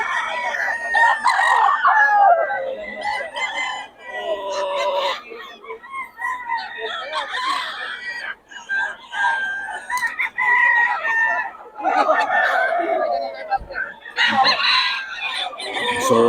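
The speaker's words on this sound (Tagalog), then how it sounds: "Ang ganda ng katawan ng mga manok ni Boss Batang, mga idol." Gamecocks at a fighting-rooster sale in Bocaue, repeated loud crowing and clucking from several birds close by, overlapping calls in uneven bursts with brief gaps.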